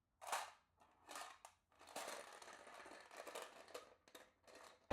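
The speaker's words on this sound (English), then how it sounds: "This is going to make some sound, so please mute or reduce the volume and let me shuffle it." A deck of tarot cards is shuffled close by in a quiet room, giving quick papery riffles and flutters in irregular bursts with short gaps, soft overall.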